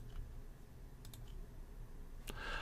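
A few sharp computer mouse clicks, including a right-click, are made while working in Vectric modeling software, sounding quiet and close in an otherwise hushed room with no talk.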